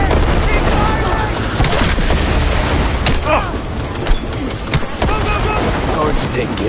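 Cyberpunk game firefight with rapid bursts of gunfire and heavy booms layered over a dense, loud battle din, while voices shout over the shooting.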